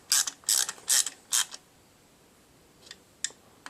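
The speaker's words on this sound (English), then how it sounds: "Don't crank them too tight because you're cranking it on plastic." A ratchet tightens bolts on a Generac 5000 generator with a plastic housing: four quick, close clicking bursts in a row, then a pause and a few fainter clicks.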